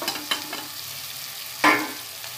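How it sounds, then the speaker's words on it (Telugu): Three finely sliced onions fry in hot oil with mustard seeds for an egg and drumstick curry, giving a few quick stirring scrapes and then a loud, close burst of sizzling that slowly fades. "ఇప్పుడు 3 ఉల్లిపాయలు సన్నగా తరుక్కుని ఆయిల్ వేసుకున్నానండి"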